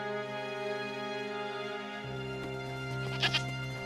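Cartoon goats bleat in the second half, a few short loud cries over a steady tonal music bed, with no speech.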